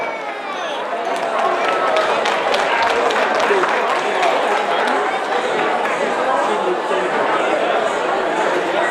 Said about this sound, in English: One more round of applause. Let's give a big hand to the next performance.